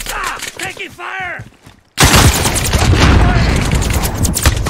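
Dense, loud gunfire bursts out in a video game shootout, a sustained rattling volley following a short stretch of talk.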